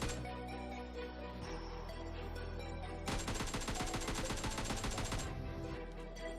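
Rapid tap-fired gunshots ring out in the mobile shooter game PUBG Mobile Lite, a dense rhythmic burst of shots over steady game background sound, with no talk.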